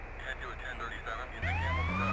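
An ambulance siren in GTA San Andreas comes in partway through, a rising wail that swells loud over the game's background noise and continues steadily to the end.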